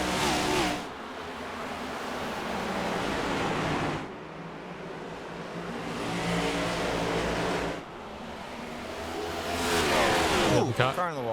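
Race cars roaring on a track as the green flag restart begins, a sustained loud engine wash rising and falling in three broad waves as the pack passes.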